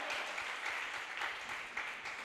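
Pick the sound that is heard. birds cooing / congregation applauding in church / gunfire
congregation applauding in church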